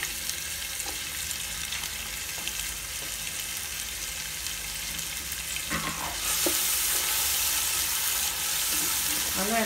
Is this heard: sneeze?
no